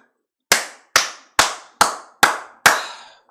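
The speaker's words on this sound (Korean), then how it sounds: "박수 쳐라 이것들아" Six sharp, evenly spaced hand claps ring out loud and close, each with a short decay and a gap before the next. There are no voices.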